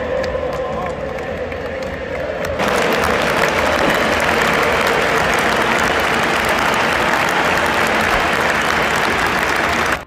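A World Cup stadium crowd of tens of thousands applauds Luka Modric, a vast wash of clapping and cheering that swells suddenly louder after a few seconds and holds steady, with faint public-address tones early on.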